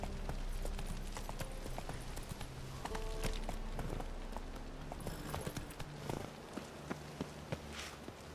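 Horse hooves clip-clop rapidly in The Witcher 3 video game as the horse gallops, a busy stream of hoof beats amid game ambience with other sound effects.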